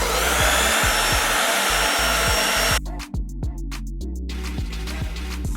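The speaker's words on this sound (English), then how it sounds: "sit it and blow dry it down" A hair dryer blows steadily while a wig's lace is dried flat, a loud continuous rushing hum that drops slightly partway through as the airflow shifts, with a low rhythmic thumping underneath.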